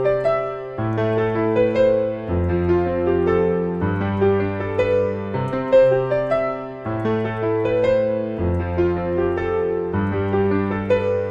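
Piano playing a catchy guitar riff, a looping pattern of bright repeated notes over low bass notes in a steady bouncing rhythm, loud and close with no talk.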